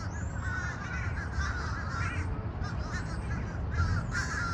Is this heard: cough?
no